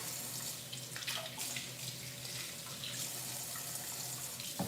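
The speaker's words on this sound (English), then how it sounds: "I'm about to wash my hand." Water runs steadily from a kitchen tap while hands are washed, a soft continuous splashing stream into the sink with a few faint clinks, quiet and without speech.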